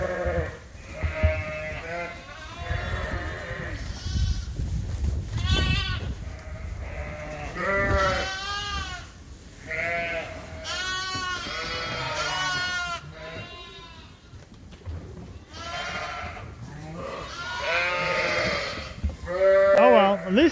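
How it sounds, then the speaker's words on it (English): Suffolk ewes and lambs, about sixty ewes with twice as many lambs, bleat continuously in a crowded barn pen, overlapping calls near and far, with occasional human voices beneath. "60 ewes with 120 lambs."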